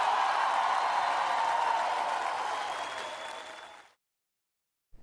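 Raucous applause from a political audience, loud dense clapping that fades out over a few seconds and cuts to silence, with a brief burst returning at the very end.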